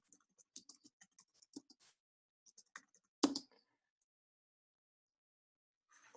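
Quiet keystrokes tap on a computer keyboard in short irregular bursts, followed by one louder clack and then a long silence before a few final taps.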